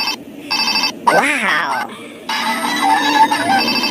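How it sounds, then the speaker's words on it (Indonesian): A Hello Kitty toy telephone rings in a child's toy play session, its bright electronic ring rising and falling in a wavering burst of about a second amid busy background tones. "Ada telepon Hello Kitty."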